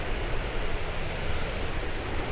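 Månafossen waterfall in Frafjord, Norway, roars with a loud, constant rush of falling water, a dense unbroken hiss and rumble with no talk over it.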